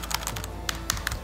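Typing on a plastic-framed, backlit wireless computer keyboard: a quick run of crisp key clicks, a handful of sharp taps with short gaps, close and clear with no talking.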